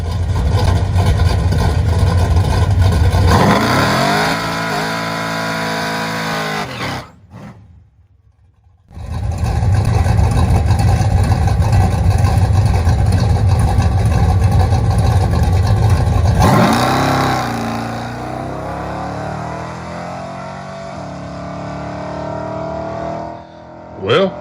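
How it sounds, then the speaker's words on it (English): A Chevrolet C10 drag-racing truck on drag radials, fitted with a GM 8.5 ten-bolt rear end and Moser spool, launches hard with a loud, rising V8 roar. The engine revs climb, a brief lull follows, then it pulls hard again before fading down the track. "the truck hooked up hard, made its fastest pass ever"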